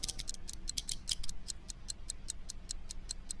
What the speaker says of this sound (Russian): Ой, еще часы.